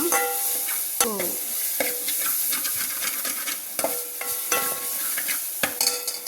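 Spices frying in a pan while being stirred for a Telugu cucumber curry, close scraping and clattering strokes of the spoon over a steady sizzle, in uneven bursts.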